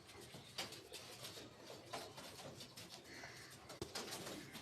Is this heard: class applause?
no